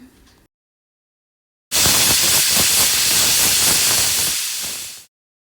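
A pressure cooker holding vegetables for kurma lets out a long, loud, steady hiss of steam lasting several seconds, then cuts off abruptly.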